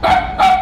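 A dog gives two quick, sharp barks in a row, close and loud, with a brief gap between them.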